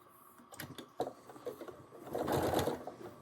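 A sewing machine stitches a fabric storage pouch in short, stop-and-start runs of fast mechanical whirring and rattling, close by, with one longer steady stitching burst near the end.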